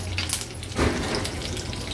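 Mustard seeds hit hot oil in a kadhai already holding curry leaves, while tempering for a Maharashtrian jhunka; a short burst of sizzle and crackle rises over steady background frying hiss.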